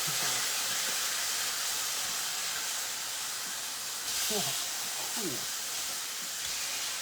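Pork chops brown in a hot pan set over potatoes, giving a steady, loud sizzling hiss throughout with a few faint voice-like traces midway.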